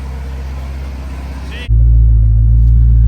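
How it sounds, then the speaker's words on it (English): A car engine idles, then abruptly swells into a loud, deep, constant rumble that dominates everything for the rest of the clip. "I can't hear my voice over this car."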